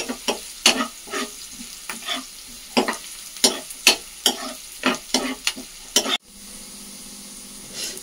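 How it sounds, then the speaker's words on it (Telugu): Onions and green chillies fry in a pan for egg fried rice, with repeated sharp stirring scrapes over a steady sizzle before the stirring stops and a softer sizzle carries on alone. "ఆనియన్స్ పచ్చిమిర్చి అయితే వేగినాయి"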